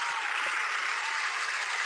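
A live audience bursting into applause as a performer is welcomed to the stage, a loud, dense, continuous wash of clapping from a large crowd.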